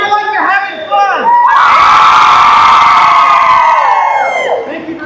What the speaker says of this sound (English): Cheer like you're having fun.